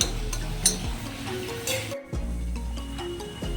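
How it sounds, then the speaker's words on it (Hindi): Lemon juice simmers in a pot over a low flame while a spoon keeps stirring it. The soft bubbling and sizzle sound close, broken by occasional scrapes and clinks against the pot. "ये देखिए हमारा नींबू का रस उबल रहा है।"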